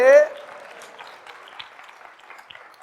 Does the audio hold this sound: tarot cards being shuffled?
no